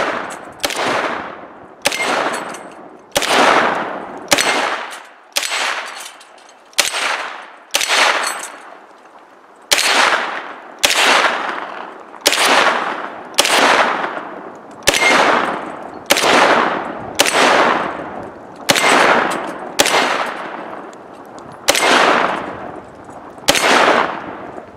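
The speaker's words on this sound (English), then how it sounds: "So we'll do some more shooting." A gun shooting golf balls fires about twenty sharp, loud shots at an irregular pace, each with a ringing, decaying tail and no talk.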